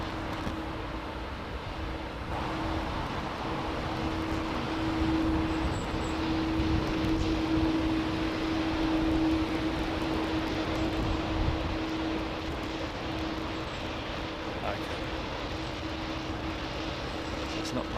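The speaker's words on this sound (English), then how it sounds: "Or is that the Qatar 380 now making its way out from T4?" Qatar Airways Airbus A380 taxiing out from Terminal 4 at Heathrow, a steady distant jet engine drone with a constant tone, continuous for the whole stretch under faint background voices.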